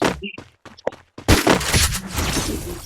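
Counter-Strike gunfire in a ranked match, with a few sharp shots at first and then a dense, loud burst of rapid fire and chaotic combat noise filling the rest.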